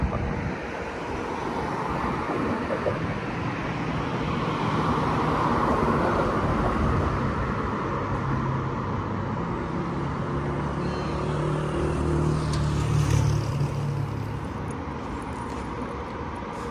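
Steady, continuous wash of car traffic at night near Masjidil Haram, a broad rumbling roar from passing vehicles at moderate distance, unbroken for the whole stretch with no talk.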